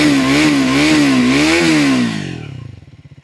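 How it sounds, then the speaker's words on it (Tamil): Single exhaust of a 400cc sports motorcycle revved hard: a loud, close, buzzy engine note that holds high, wavers, then drops back toward idle with a pulsing rhythm, no voices. "எக்ஸாஸ்ட் நோட் கேட்போம்."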